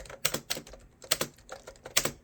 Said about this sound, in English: especially when you're typing away